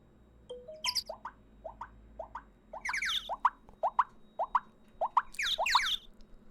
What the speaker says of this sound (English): I love my notification noises.